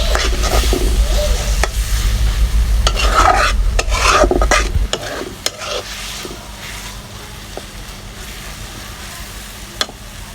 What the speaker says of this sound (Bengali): এখানে আমার ভাজিটা ভাজা ভাজা করে করা হয়ে গেছে,